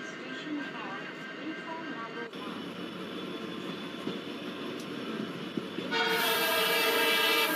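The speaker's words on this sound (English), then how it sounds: "we are slowly entering platform number 1 of Chittorgarh Junction" In the MSTS train simulator, a GOC WDP4D diesel locomotive hauling the Udaipur Super Fast Express rolls slowly into platform 1 at Chittorgarh Junction with a steady engine drone and wheel rumble. A loud horn blast sounds near the end.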